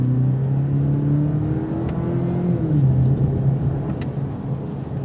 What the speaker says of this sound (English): We're going to stop in the middle of the road, give her some gas.